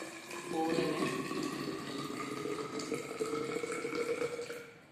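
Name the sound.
pouring 200 ml water into soil-filled measuring cylinders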